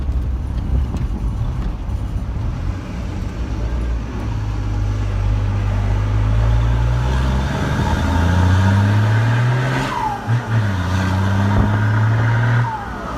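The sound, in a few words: Chevrolet Silverado six-cylinder engine roaring loudly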